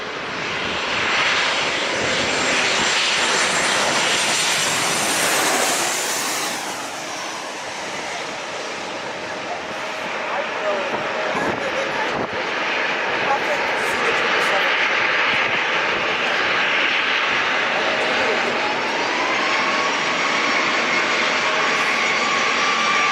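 Passenger airplane landing at San Diego International Airport, a loud sustained jet engine roar that swells and fades over the runway, steady throughout with occasional talk faintly underneath.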